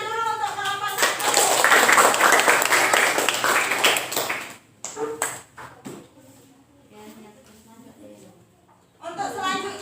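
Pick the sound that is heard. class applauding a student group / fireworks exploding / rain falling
class applauding a student group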